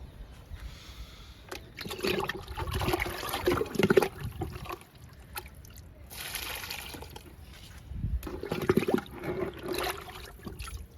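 Liquid fertilizer poured onto garden plants, a soft trickling and splashing that comes in several bursts as each plant is watered, close by and moderately quiet.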